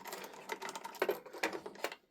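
Small screws being undone on a TOMCAT safety lantern alarm, a faint run of quick, close-up ticking and clicking taps in an irregular rhythm.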